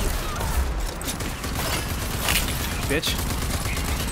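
Rapid, dense gunfire from the Rage 2 shooter game roars continuously at close range, with sharp cracks over a constant noisy blast, while a player briefly speaks.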